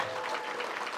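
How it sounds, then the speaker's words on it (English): School audience at a 2024 honor society ceremony applauding a guest speaker, a short burst of steady, moderately faint clapping with no talk. "please give a round of applause for our guest speaker, Janae Garcia."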